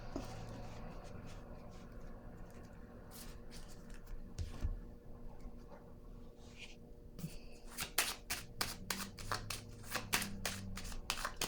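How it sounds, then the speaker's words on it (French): Tarot cards shuffled, slid and laid down on a table in a string of crisp papery flicks and taps, sparse at first and then a quick cluster of sharp snaps near the end, close and clear with no talking. "Je vais déposer une autre carte ici"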